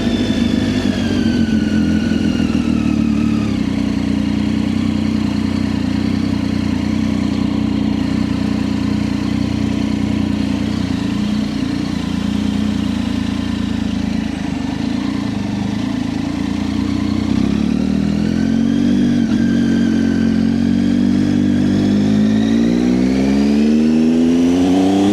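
A motorcycle rides through the Lake District passes near Buttermere, its mid-pitched engine droning steadily with gear changes and rises in revs, loud and continuous throughout.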